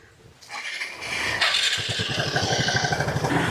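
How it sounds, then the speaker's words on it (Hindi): Motorcycle engines crank and catch before a pulling contest against an e-rickshaw, building to a steady loud rumble with a rhythmic idling putter, close by. "चलिए आप लोग बाइक स्टार्ट कीजिए"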